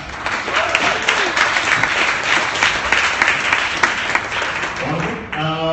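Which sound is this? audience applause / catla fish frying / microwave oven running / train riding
audience applause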